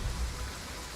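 Steady rain in the video game Total War Pharaoh Dynasties, a brief, even hiss of falling water heard alone.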